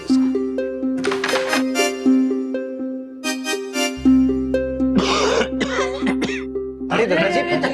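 An elderly grandfather coughs in harsh repeated bursts and clears his throat, set against a steady musical drone, with fits returning several times over the stretch.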